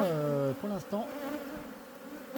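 A honeybee colony hums at the hive, a dense buzzing swarm whose pitch sweeps and wavers as individual bees pass near, fading slightly toward the end.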